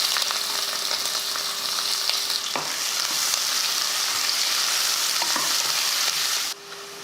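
Sliced onions sizzle in hot oil with cardamom, cloves, star anise and a bay leaf in a cooker, a steady close frying hiss with occasional stirring scrapes, briefly quieter near the end.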